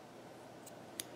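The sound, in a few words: scissors cutting yarn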